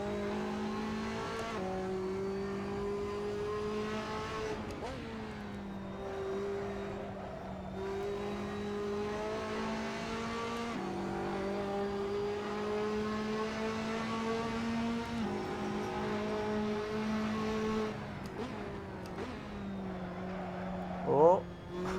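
Race cars in the Assetto Corsa sim racing game drive around a track, engines droning steadily with repeated rising and falling pitch as gears shift, loud and continuous throughout, ending with a brief squeal-like burst.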